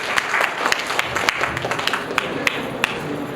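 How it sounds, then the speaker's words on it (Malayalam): Audience applause breaks out at a book launch ceremony in Sharjah, a dense wash of many hands clapping with a few sharp, louder claps standing out near the front, steady for a few seconds. "നല്ലൊരു കയ്യടി"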